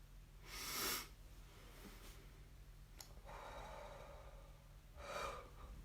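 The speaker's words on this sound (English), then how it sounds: "let's together take some deep breaths" Group deep-breathing exercise: a few slow, audible breaths, soft inhales and exhales spaced a couple of seconds apart over a faint steady background hum, quiet and with no talking.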